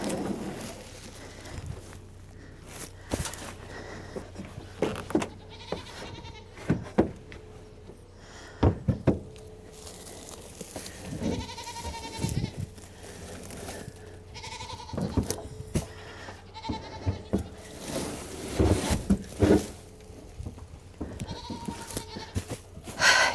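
Goats bleating repeatedly on a farm before a storm, several calls near and far over a steady low background hum, with occasional knocks in between.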